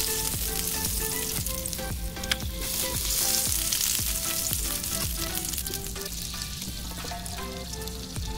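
Butter sizzles steadily on a hot plate before a steak goes on, a dense continuous frying hiss with faint crackles, close and fairly loud throughout, no voices.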